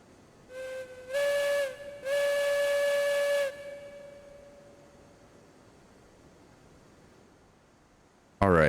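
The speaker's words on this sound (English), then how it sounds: "Let's blow this whistle for some good luck and let's get rolling." A steam locomotive whistle in the railroad game RAILROADS Online sounds in a short blip, then two longer loud blasts with a hissy edge, fading into quiet steam hiss before a sudden noisy burst at the end.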